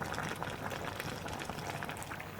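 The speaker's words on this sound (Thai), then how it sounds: "ให้มันเดือดปุ๊บปุ๊บปุ๊บปุ๊บปุ๊บปุ๊บนี่แหละ" A pot of tilapia curry, cooked with young chillies, bubbles at a steady boil, a close, continuous fizzing and popping with no other sounds.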